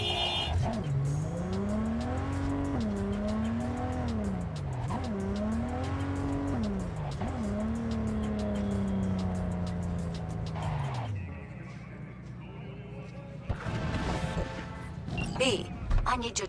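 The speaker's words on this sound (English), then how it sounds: "Just drive right over that dude's car." A car engine hums and revs steadily while driving in Cyberpunk 2077, its pitch rising and falling through gear changes for about eleven seconds before cutting out, followed by quieter game effects and a brief burst near the end.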